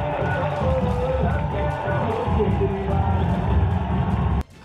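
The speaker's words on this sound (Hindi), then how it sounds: "चारों तरफ अरविंद केजरीवाल के नारों का शोर सुनाई देने लगा।" A crowd chanting slogans for Arvind Kejriwal at the Aam Aadmi Party office, a loud, dense, continuous roar of many voices that cuts off abruptly at the end.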